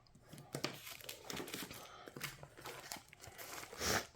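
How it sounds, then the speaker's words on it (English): Plastic shrink wrap on a boxed craft organizer crinkles and tears close by in irregular bursts of rustling, quiet overall with brief louder rips and no talking. "Just open the shrink wrap."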